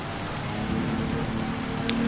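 Steady rain falls at Spa Francorchamps in Gran Turismo 7, a dense, continuous hiss of raindrops with a low engine drone beneath, loud and unbroken for two seconds.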